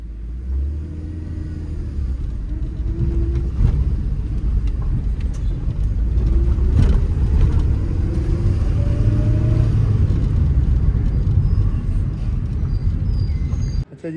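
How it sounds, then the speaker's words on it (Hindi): A Suzuki Swift DLX on a test drive after repairs, its engine giving a steady low rumble with road noise throughout, swelling slightly midway as it accelerates, with no talk. "अच्छा अभी जो है ना टेस्ट ड्राइव के लिए जा रहे हैं भाई, इसको ड्राइव कर रहे हैं"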